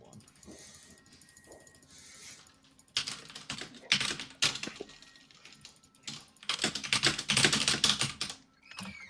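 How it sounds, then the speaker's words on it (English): Typing on a computer keyboard: quiet clicking at first, then dense, loud bursts of rapid clacking with short pauses between runs, close to the listener, with faint voices underneath. "I'm gonna type you something."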